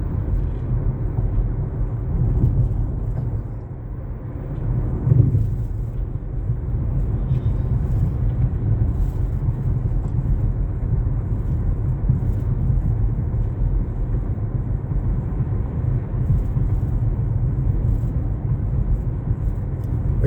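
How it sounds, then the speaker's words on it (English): Inside a moving Nissan Leaf electric car, a steady low rumble of tires on the road persists, constant and fairly loud with no engine sound. "you can hear the tires a little bit, but you know it's a car, so you're not gonna be serene"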